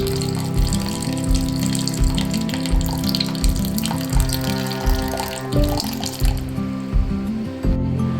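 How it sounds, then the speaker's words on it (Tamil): Tamarind water pours steadily into a pot of fish-free fish curry, a continuous close gushing and splashing with a faint pulsing rhythm, nearly alone with no talk over it. "இப்போ இதில் வந்து நம்ம வந்து புளி கரைச்சியில் ஊற்றிக்கலாம் புளி கரைச்சி தான் ஊற்றிக்கலாம்"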